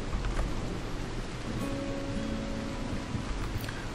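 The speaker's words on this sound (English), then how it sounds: "Fire there, but the rain will extinguish that easily." Steady game rain from the video game Rimworld, a dense even hiss across the whole stretch at a constant level with a few faint tonal lines drifting through, and no voices.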